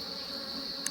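Honey bees buzz steadily inside a Flow Hive around capped honey and nectar, a constant close, even hum with no pauses and no talking.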